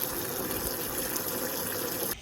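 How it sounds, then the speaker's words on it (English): A hose runs steadily into a sheep's water tank during fall evening chores, a constant rushing, gushing flow that cuts off sharply near the end. "So while their water is filling"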